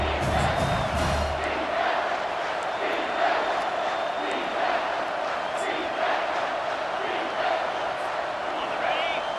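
A big stadium crowd roars steadily in EA Sports College Football 25 while the defense tries for a red-zone stop. The noise is loud and continuous, with swelling cheers and whoops and no clear break.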